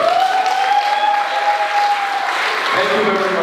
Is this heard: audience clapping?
yes